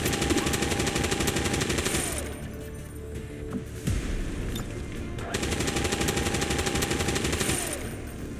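Bursts of rapid automatic gunfire from the X-COM video game, two long sustained volleys separated by a quieter stretch with a single sharp boom in the middle, loud and close.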